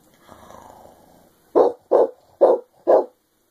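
A teenage boy imitates a dog with his voice, giving four short, loud, evenly spaced barks after a faint stretch of breathy vocal rumble.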